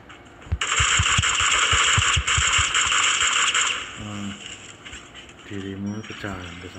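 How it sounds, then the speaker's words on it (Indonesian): Gunfire from shooting in the video game Cyber Hunter rattles in rapid, loud bursts for about three seconds, then stops as a voice begins speaking over quieter game sound. "sudah ada yang nembakin"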